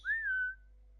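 A character in the video game Assassin's Creed Origins gives a single short, clear whistle, a bright tone that rises slightly and then fades, heard alone with no talk.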